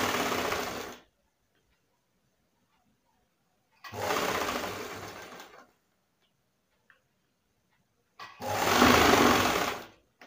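A sewing machine stitches fabric in three separate bursts of rapid whirring, each about one to two seconds long, with silent pauses between them and a faint click in one gap.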